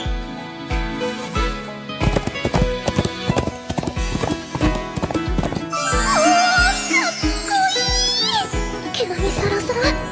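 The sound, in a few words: horse running, hooves clip-clopping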